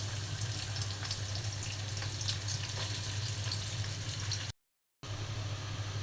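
Cumin, garam masala and chopped onion fry in oil for a spicy beef tripe curry, a continuous soft sizzle with a low hum beneath, briefly cut off near the end before resuming.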